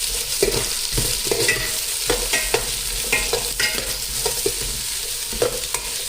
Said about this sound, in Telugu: బాగా మొత్తం కలిసిపోయేటట్టు మంచిగా కలుపుకోవాలి. ఆయిల్లో ఫ్రై చేసుకోవాలండి.